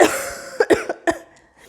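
A dry cough: a few short, sharp hacking bursts close to the microphone, spaced irregularly over under two seconds with no talk.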